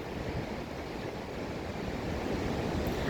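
Steady rush of ocean surf washing on a beach, a continuous broadband roar with a little wind noise, fairly loud and close, no voices.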